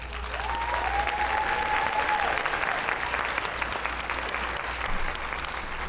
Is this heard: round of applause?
yes